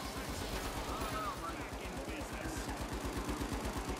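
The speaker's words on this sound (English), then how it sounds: "Mine sounds like a lot of shooting." Gunfire in the first-person shooter The Finals, a sustained run of rapid, evenly spaced shots like an automatic weapon, loud and continuous under a busy game mix.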